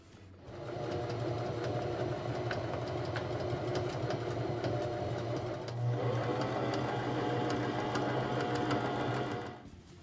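A sewing machine stitches striped curtain fabric in a long, steady, close whirring run with a brief dip midway, starting and stopping cleanly.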